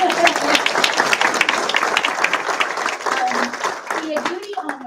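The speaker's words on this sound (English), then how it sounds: "I think we should all give her family a round of applause." Audience applause at a veterinary school white coat ceremony, given for a graduate's family: a dense, steady crowd of clapping hands filling the hall, continuous and fairly loud throughout with faint voices mixed in.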